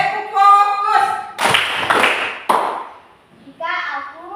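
Children in an Indonesian classroom play a rhythmic clapping game, with sharp bursts of claps in patterned beats. Young voices chant before and after the claps.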